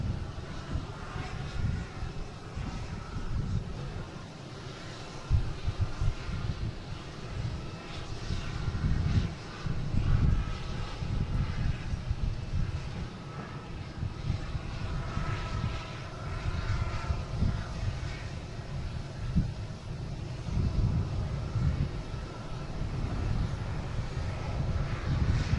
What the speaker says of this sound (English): the E170 coming in from LaGuardia, landing on 4 right.